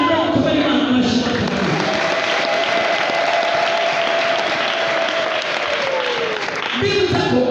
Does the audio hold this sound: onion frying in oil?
no